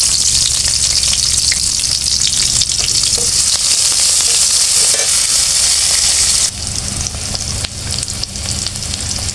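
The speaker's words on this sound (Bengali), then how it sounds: "কড়াইয়ে আবার একটু তেল দিয়ে দিব। এর মধ্যে পেঁয়াজ কুচি, কাঁচামরিচ কুচি দিয়ে দিব।" Chopped onion and green chili hit hot oil in a wok-like pan and fry with a loud, dense, continuous hiss, close up and without voices; the sizzle eases slightly in the last few seconds.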